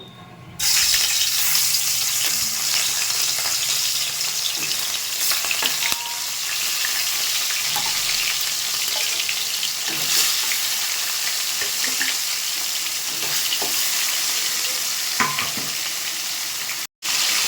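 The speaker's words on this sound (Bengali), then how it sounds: "তেলটা গরম হয়ে গেছে, মাছগুলো ভেজে নেব।" Rohu fish frying in hot mustard oil in a kadai, a loud, continuous hissing sizzle that lasts the whole time with faint scattered clinks, close and without voices.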